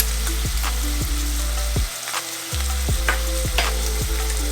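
Cumin and coriander sizzle in hot oil in a frying pan for a chickpea curry, a loud steady close frying hiss with a rhythmic scraping of stirring, briefly easing midway.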